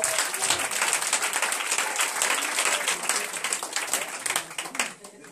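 A crowd applauds steadily to acclaim the Lord at a religious gathering, dense clapping sustained throughout and thinning slightly at the very end, with voices mixed in underneath.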